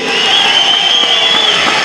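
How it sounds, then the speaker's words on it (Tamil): Applause and cheering from a packed audience at a hall speech event, a loud, continuous wash of clapping with crowd voices and a sustained high whistle over it. "ஒரு அரங்கம் நிறைந்த மாபெரும் கைத்தட்டலுக்கு நடுவே"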